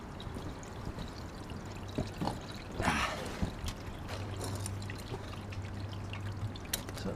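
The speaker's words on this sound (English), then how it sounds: "just drain the oil out like so" Engine oil drains from a 1995 Suzuki King Quad ATV in a thin, steady trickle of pouring liquid, with a steady low hum and a few clinks and handling noises around it.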